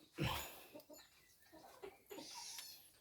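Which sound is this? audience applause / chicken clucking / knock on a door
chicken clucking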